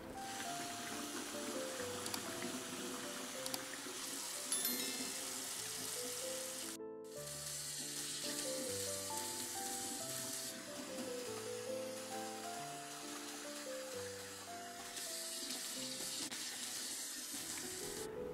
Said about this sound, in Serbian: ja ću sad da spremim da je lepo operem, očistim ako ima neke prljavštine